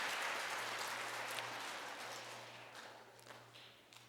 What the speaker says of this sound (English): Okay, we'll all clap.